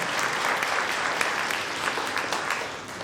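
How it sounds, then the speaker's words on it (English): An audience at a high school graduation ceremony applauds the graduating students, a steady wash of many hands clapping at moderate loudness without pause. "Let's give all of those students a round of applause"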